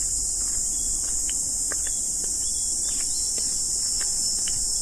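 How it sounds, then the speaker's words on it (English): A loud, continuous high-pitched insect drone fills the air without pause, cicadas buzzing steadily on a hot day in Tokyo, Japan, with a few faint chirps scattered underneath. "Yeah, those are cicadas."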